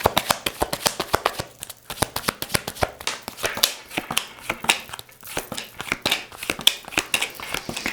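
Tarot cards shuffled by hand, a rapid run of crisp riffling flutters and soft slaps repeating in quick bursts, close and clear with no talking.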